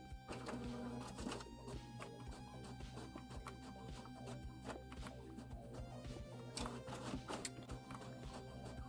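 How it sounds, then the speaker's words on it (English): A printer runs in the room printing documents, with rhythmic mechanical clacks and whirring bursts repeating at a moderate distance, faint but steady. "I don't know if you can hear the printer, but my wife printing stuff for work"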